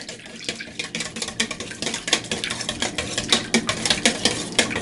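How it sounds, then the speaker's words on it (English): A whisk scrapes and clatters steadily around a bowl of honey muffin batter, a close, rapid rhythmic stirring with small metallic taps on the rim and no talking. "I think that's probably as whisked together as it's going to get"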